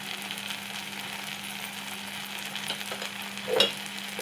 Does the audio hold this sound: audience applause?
no